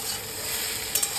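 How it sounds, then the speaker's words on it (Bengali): Fried rohu fish is stirred into fried eggplant, potato and onion in a pan, giving a steady close sizzle with light scraping and a couple of brief clatters near the end. "ভাজা মাছটা এটার সঙ্গে মিলিয়ে একটু নেড়ে চেড়ে নামিয়ে দেবো"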